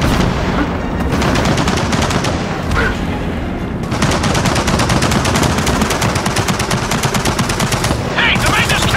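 Machine gun nest in the video game Gears of War 4 firing long, dense bursts of rapid automatic fire, loud and close, broken by a few short pauses, with booming impacts mixed in.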